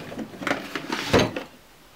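A bottom drawer in a makeup storage unit slides open with a short scraping rattle, a firmer knock near the middle and a soft settling noise, close by and with no voices.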